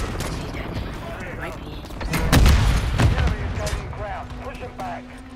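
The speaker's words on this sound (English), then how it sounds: "Grenade out!" Booming grenade blasts and gunfire in the Call of Duty video game, a loud burst of explosions and shots peaking midway through a chaotic firefight with voices shouting over it.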